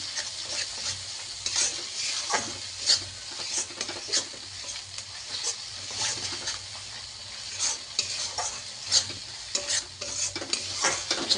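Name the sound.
stir-frying mustard and poppy seed paste in oil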